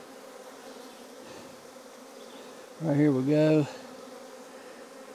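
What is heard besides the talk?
honey bees buzzing around opened hive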